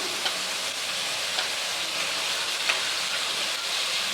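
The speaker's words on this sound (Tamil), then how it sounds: "தக்காளி வந்து நல்லா வதங்கட்டும்" Large tomatoes sautéing with salt in a pan give a steady, even sizzle that runs unbroken throughout, with faint stirring ticks now and then and no voices.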